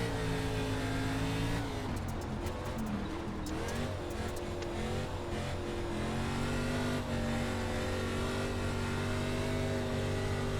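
An ARCA Menards Series race car engine at Knoxville in the iRacing sim roars continuously, revving and shifting pitch through corners, with occasional tire squeal and no speech.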